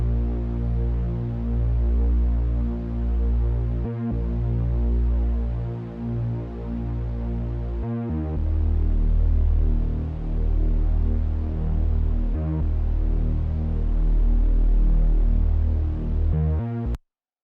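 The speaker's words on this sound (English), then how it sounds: "this is what the bass sounds like." Analog-style synth bass with a subtle layer of white noise, a deep sustained sliding line in repeating phrases with brief gaps, loud and alone, ending abruptly.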